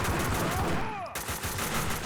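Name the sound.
gunfire in the video game Max Payne 2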